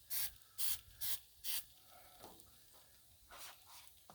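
All-purpose non-stick cooking spray hisses from a can in four quick, evenly spaced bursts, close and crisp, followed by quieter scraping and a couple of fainter sprays in a still room.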